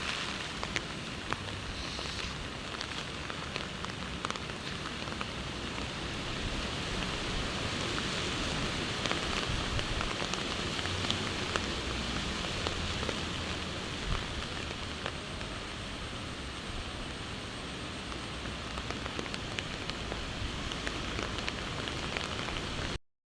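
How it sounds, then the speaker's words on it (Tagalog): Rain pours steadily over a rice field, a dense, continuous hiss of drops on the surface that stays loud and unbroken throughout. "ayan po yung ulan"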